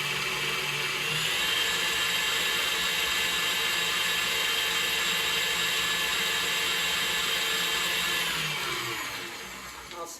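An electric mixer whips cream for a lime cheesecake parfait, a steady high whirring drone that holds loud and even for several seconds before winding down near the end.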